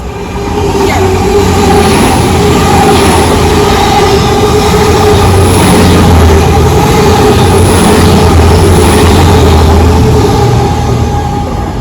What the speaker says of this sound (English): right now there's a fast train coming, it's the Azuma